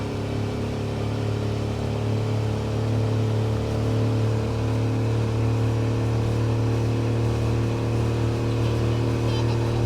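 A Suzuki DF25A 25 HP outboard motor, 2024 model, running steadily at three-quarter throttle on a boat, a loud, close, continuous engine drone with strong low hum and constant pitch throughout.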